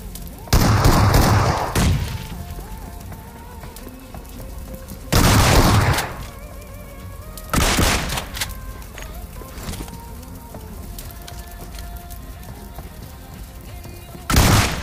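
Video-game gunfire from a battle royale ranked solo match, a DPS weapon against a shotgun: several loud bursts of rapid shots with gaps of quieter ambience between them, plus a final burst at the end.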